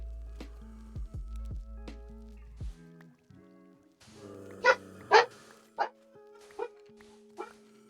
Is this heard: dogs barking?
yes